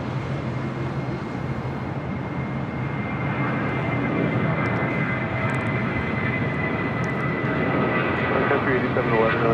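A heavy jet airliner takes off at LAX on the north side, heard as a continuous, broad engine roar that holds steady and swells slightly, with a voice faintly beneath it.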